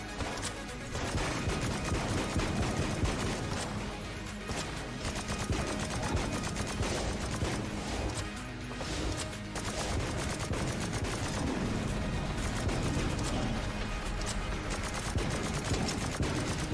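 The strafe gun in Enter the Gungeon fires in a long, rapid, continuous burst, a loud dense clatter of shots with brief pauses, mixed with impact crashes and busy game effects.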